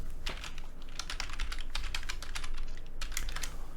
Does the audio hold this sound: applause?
no